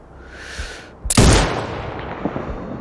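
A single sharp, loud sniper rifle shot in the video game Sniper Ghost Warrior Contracts 2 cracks out after a quiet moment, its boom echoing and slowly fading over a low background rumble.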